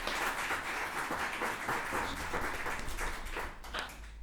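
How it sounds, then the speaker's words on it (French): An audience at a French conference on the ethics of xenotransplantation applauds its four speakers with a steady, fairly distant patter of many hands that thins slightly toward the end. "je pense qu'on peut remercier et applaudir nos 4 intervenants"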